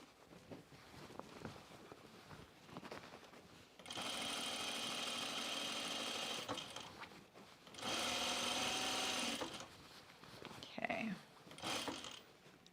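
A home sewing machine top stitches a pullover camp dress in two steady, whirring runs of several seconds each, close up, with mechanical clicks and someone talking softly between the runs.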